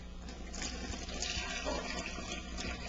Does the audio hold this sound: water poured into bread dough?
yes